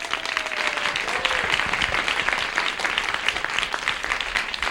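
A live studio audience at a 1978 midday television interview program claps warmly and continuously, a dense, even burst of applause from many hands lasting nearly five seconds.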